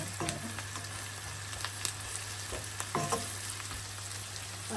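Onions sizzle and caramelize in a pan for a Sri Lankan home-style lamb and potato dish, a steady frying hiss broken by a few sharp stirring scrapes and clicks.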